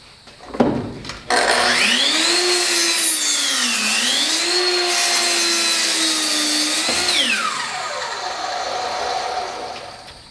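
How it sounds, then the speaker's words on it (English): A circular saw crosscuts a board in a crosscutting box, spinning up with a sharp start, then holding a loud, sustained whine whose pitch sags and recovers as the blade loads in the wood, before winding down. "So I'm going to cross cut it."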